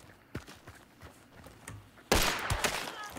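Gunshots in the video game Hunt: Showdown, a string of scattered sharp shots and thuds ending in a loud, close blast followed by a dense burst of reverberant gunfire.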